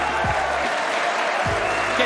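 A snooker crowd at the 2020 Players Championship Finals applauds Yan Bingtao as he walks out, steady clapping throughout with a commentator talking over it.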